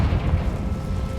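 A Confringo explosion spell cast in the game Hogwarts Legacy, a deep rumbling low blast that sustains evenly for the full moment without any voices.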